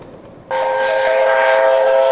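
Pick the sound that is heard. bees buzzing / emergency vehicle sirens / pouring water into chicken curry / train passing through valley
train passing through valley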